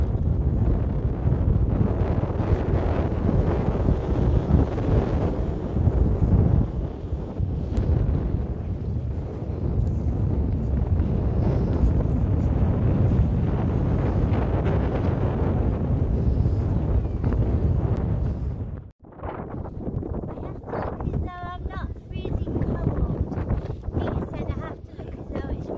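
A ship sails out along a windy Yorkshire coast, heard as heavy, continuous wind buffeting with low rumbling for most of the clip, then a sudden drop before lighter gusts and some talk.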